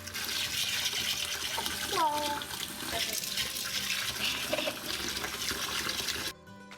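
Water runs and splashes steadily into a bowl of mung beans for soaking, a continuous close pouring hiss that cuts off abruptly at the end, with faint voices under it.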